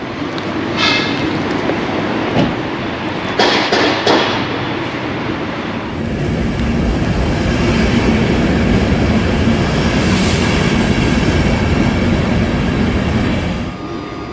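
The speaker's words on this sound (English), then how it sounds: "Let's get on that train." A train rumbling along the rails at Bregenz railway station, loud and close, with a few sharp clunks early on and a sustained heavy roll afterward.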